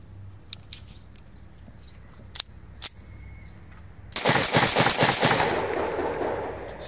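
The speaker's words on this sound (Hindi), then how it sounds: "इसके ऊपर हम टेस्ट फायर करते हैं, चेक कर लें इंशाल्लाह।" A gold-plated Beretta 92FS 9mm pistol is test fired: a few isolated sharp shots at first, then a dense burst of rapid reports that rings on steadily to the end.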